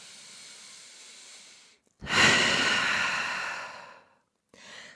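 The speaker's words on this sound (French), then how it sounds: "Prenez une grande respiration ici." A deep breath in a yoga class: a soft airy inhale, a brief pause, then a long, loud, hissing exhale close to the microphone, and the start of another breath.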